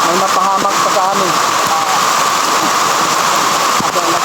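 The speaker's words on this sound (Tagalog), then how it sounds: "Aba, lakas ng ulan rin." Heavy rain pours steadily as a dense, constant hiss, with a voice speaking over it near the start.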